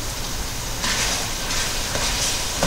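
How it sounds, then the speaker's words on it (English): Ground meat sizzles steadily in a hot pan, a continuous crackling hiss with occasional stirring scrapes, close and fairly loud, no voices. "You hear it sizzling, that's the meat cooking up."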